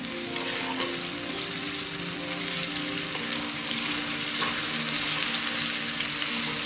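Onion and tomato paste frying in oil until the oil separates, a loud, steady, dense sizzle that holds evenly from start to finish with faint stirring, and no voices.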